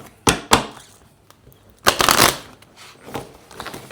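A deck of small tarot cards is shuffled by hand in a few quick riffling bursts, close and crisp, separated by short pauses.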